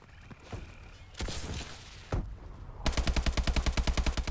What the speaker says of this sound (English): They're getting shot from somewhere, and I don't know where.